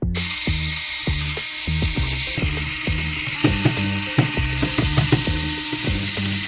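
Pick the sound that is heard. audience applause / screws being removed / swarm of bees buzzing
screws being removed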